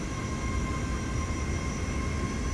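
An Embraer airliner passes in Microsoft Flight Simulator 2024 as a steady, loud engine roar with a sustained whine on top, constant throughout with no speech.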